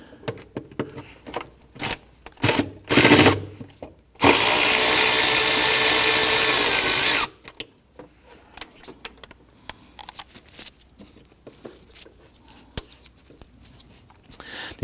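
A power tool loosens a 10mm bolt on a 2011-2015 Kia Sorento during starter replacement, a loud steady whir of about three seconds after a few short bursts and metallic clinks, then quieter handling noises.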